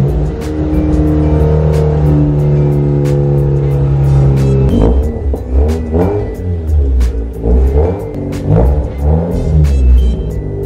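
A Mazda RX-8 rotary engine idles close by with a steady, even drone, then is revved in several sharp blips that rise and fall before settling back, loud and alone without talk.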